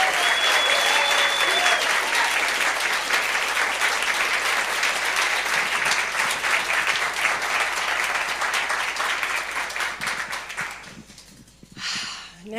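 A church congregation gives a round of applause for its practitioners: dense, loud clapping from a large crowd that carries on steadily, then thins and fades near the end, leaving a brief, softer burst.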